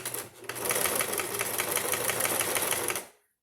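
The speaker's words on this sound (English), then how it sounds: "Back stitch it" A sewing machine back-stitches the fabric pieces of a face mask, giving a fast, even mechanical whir with rapid rhythmic ticking for about three seconds before stopping abruptly.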